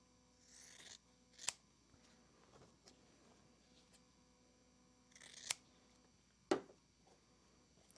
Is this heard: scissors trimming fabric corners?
yes